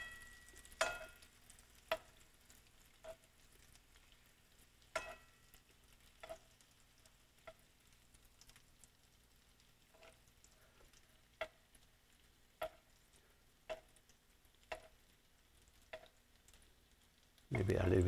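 Atlantic salmon fries in butter in a pan with a faint, steady sizzle, broken by sharp ticks and pops spaced every second or so.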